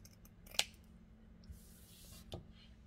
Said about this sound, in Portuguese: já vou aproveitar para cortar o excesso desse feltro.